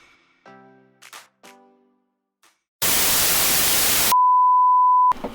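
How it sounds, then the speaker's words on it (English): Trimaran anchor alarm giving a single loud, sustained electronic tone lasting about a second, preceded by a burst of harsh static and a few faint clicks. "Next up on the to-do list, fix our anchor alarm."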